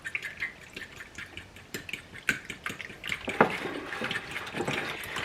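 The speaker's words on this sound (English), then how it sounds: "Give it a stir." Egg mixture with cinnamon stirred in a pie plate, a soft close-up sequence of quick wet clicks and utensil taps against the dish, growing slightly busier toward the end.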